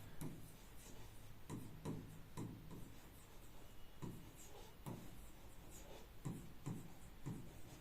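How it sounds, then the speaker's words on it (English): Chalk or marker writing on a board during a science lecture: soft, quiet scratching strokes and taps in irregular short bursts throughout, close by, with no speech. "let me just write it down over here."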